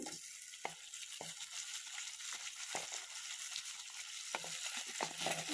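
Chopped vegetables and tomatoes fry in a pan over golden-fried onions, giving a steady broad sizzle with a few sharp stirring clinks scattered through, close and without talk.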